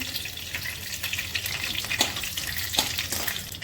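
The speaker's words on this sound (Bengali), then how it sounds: "একটু শুকনো লঙ্কা ফোড়ন করছি" Dried chilies crackle and sizzle in hot oil, a steady close frying hiss with occasional sharp pops and stirring scrapes.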